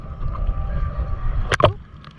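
Gusty wind rushing over a microphone at Hondagua Beach at high tide, with a low steady roar and a couple of brief sharp bursts near the end.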